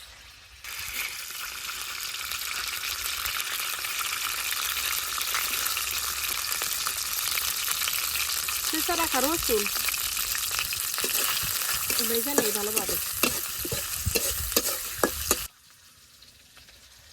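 Steady, loud sizzling of onions and green chilies frying in oil in a pan, with brief stirring scrapes and a few soft spoken words near the end.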